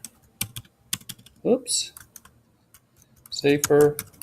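Keys tap on a computer keyboard in short irregular bursts of close clicks, with a voice speaking over parts of it.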